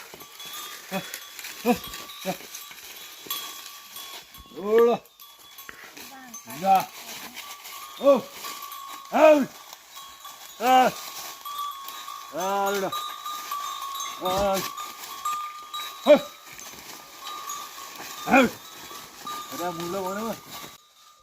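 Bulls wearing cowbells move through a hillside village, their clanking bells mixed with repeated bleating calls of livestock in an outdoor setting with steady background hiss, the calls rising and falling every couple of seconds.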